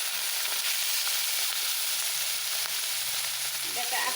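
Marinated fish sizzling and frying in hot oil in a pan for a potato and fish curry, a steady close crackling hiss that runs throughout with no talk.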